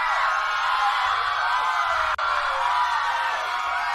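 A crowd at a French gathering whoops and cheers in a dense, sustained roar of voices, loud and continuous across the moment with one brief dropout midway.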